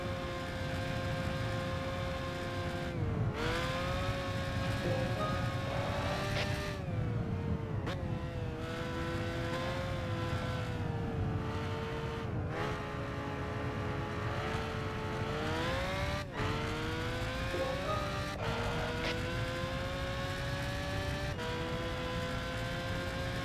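Lamborghini supercar racing in Gran Turismo 5, its engine note droning steadily throughout with rising and falling pitch through gear shifts, loud and close, with no talk over it.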